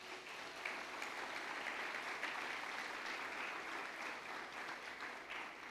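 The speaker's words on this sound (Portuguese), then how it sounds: "Vou aplaudir o Senhor mais uma vez por isso, amém?" A church congregation at a family worship service applauds together, a steady, moderately distant wash of clapping that holds evenly for several seconds without speech.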